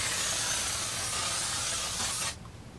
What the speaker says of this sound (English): It was spraying backwards onto my hand.